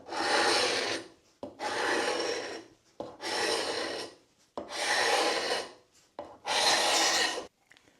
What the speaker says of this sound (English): So I'll try and get off what I can with the scraper